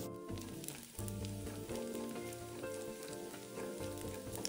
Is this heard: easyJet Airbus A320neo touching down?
no